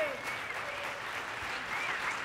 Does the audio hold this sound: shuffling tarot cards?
no